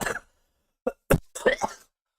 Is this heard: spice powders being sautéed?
no